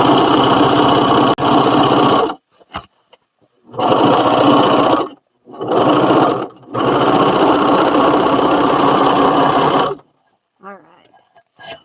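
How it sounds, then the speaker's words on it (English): A serger sewing machine with gray thread overcasts fabric edges in several fast, loud, whirring bursts separated by short pauses, ending in quiet handling noise. "the best way to do it was to have gray thread and serge some of those edges before I turned it over"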